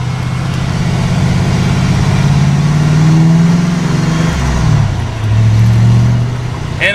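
A 1986 Ford Mustang GT fitted with swapped pony wheels accelerates on the road, its V8 engine droning loud and close from inside as the revs climb, dip briefly, then build again.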